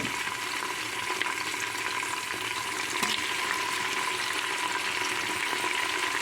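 Tomato pieces fry in a pot with toor and moong dal for khichdi, a continuous even sizzle and crackle heard up close with a faint clink of stirring.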